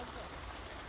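A small babbling stream: a steady, close, even rush of trickling water that fills the whole moment without a break.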